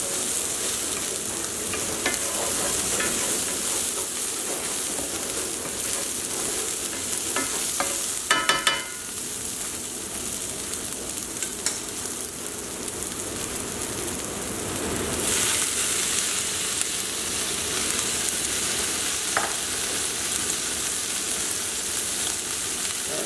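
Fresh kale hits a hot pan with aromatics for braising, sizzling in a steady hiss while a utensil stirs and scrapes at intervals, close and continuous.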